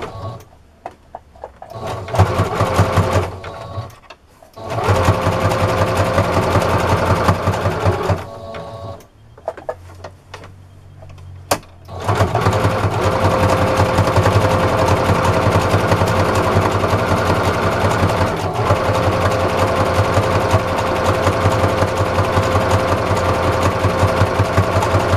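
Sewing machine running zigzag stitch through a dish-washing sponge, with a stuttering start and short pauses, then a long, steady, loud mechanical whir.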